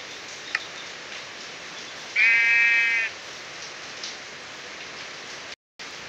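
A single sheep bleat in Minecraft, a short buzzy cry lasting about a second over a steady rain-like background hiss.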